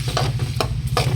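Finely chopped vegetables sauté in a pan, with four or five short scraping stir strokes at a steady rhythm over a constant low hum. No one speaks.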